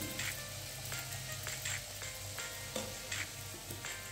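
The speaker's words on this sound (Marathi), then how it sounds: "आता इथे मी 3 सोडते याच्यामध्ये आणि मध्यम आचेवर आपल्याला हे व्यवस्थित तळून घ्यायचे आहे." Matar karanji, crisp pastries stuffed with green peas, fry in hot oil over medium heat, giving a steady close sizzle dotted with small pops and crackles, with no talking.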